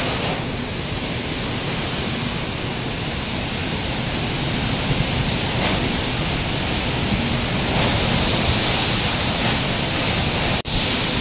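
Strong super typhoon wind roars steadily around a house where neighbours' roofing sheets are being torn loose, a dense, loud, continuous rush without pause and one brief dip near the end.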